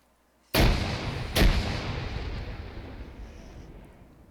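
Two frag grenade explosions in a video game, a loud close blast followed by a second under a second later, each with a long rumbling decay fading away.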